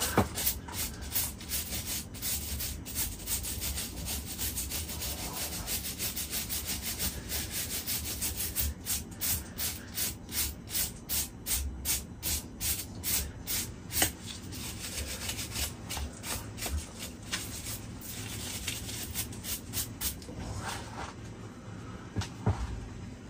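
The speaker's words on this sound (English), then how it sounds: "Get our white brush and just give it a rub." A stiff white brush is scrubbed back and forth over the deadwood of a spruce bonsai, making a steady run of close, dry rasping strokes in a quiet room.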